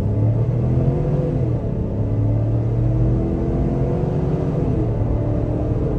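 A 2023 Chevy Tahoe Premier pulls away under hard throttle, its engine rumbling low and rising steadily as it accelerates, a loud, continuous drone close up from inside the cabin.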